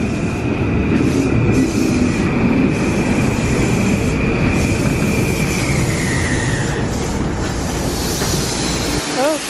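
A train rumbles loudly and continuously into a station near New York, with a drawn-out wheel squeal fading as it slows; faint voices are buried under the noise.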